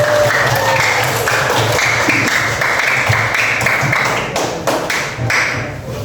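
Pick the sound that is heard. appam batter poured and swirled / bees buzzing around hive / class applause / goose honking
class applause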